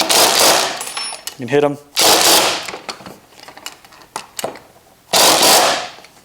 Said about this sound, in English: Or if you feel comfortable with your torque gun,